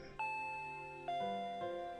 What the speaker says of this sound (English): Ding dong! I jumped at the sound and dropped my chopsticks.